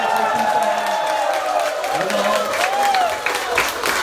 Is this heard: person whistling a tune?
no